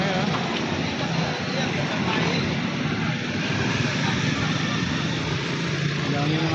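Heavy traffic full of motorcycles in Biñan, Laguna makes a dense, continuous engine roar close by, with voices mixed into the din.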